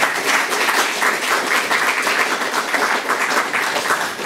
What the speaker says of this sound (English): Applause for Natasha, so please.